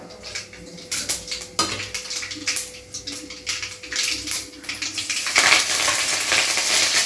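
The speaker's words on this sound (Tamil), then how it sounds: "ஆயில் ஊற்றியாச்சு கடுகு விடாச்சா அப்புறம் கருவேப்பிலை" Mustard seeds and curry leaves hit hot oil in a pan for a home-style chicken curry, a steady close sizzle with crackles and popping that swells louder near the end.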